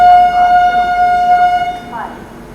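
Shatabdi Express train pulling out of Kanpur Central station, with a steady horn tone sounding over the low rumble of rolling rail cars, loud and close, and a voice talking alongside.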